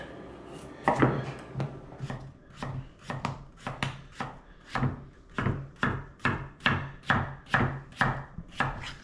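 A knife chops through potatoes on a cutting board, a clear rhythmic series of about fifteen sharp thuds, close and steady, quiet with no talking.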